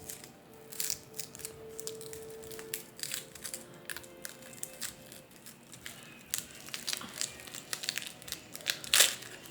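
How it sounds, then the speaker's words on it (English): Dry, papery skin is peeled off half an onion by hand, giving soft, close crinkling and crackling in irregular bursts, quiet throughout with no talking. "Peel the feathering off."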